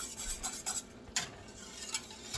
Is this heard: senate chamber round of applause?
no